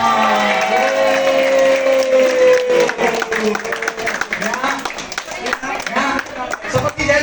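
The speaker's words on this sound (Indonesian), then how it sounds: "Boleh beri aplaus yang meriah buat Pak Hendra" Applause for Pak Hendra at an indoor event in Bali, a crowd clapping steadily and loudly for several seconds with some cheering, mixed with a voice speaking over it near the start.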